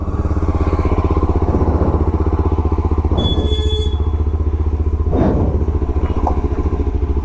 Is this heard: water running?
no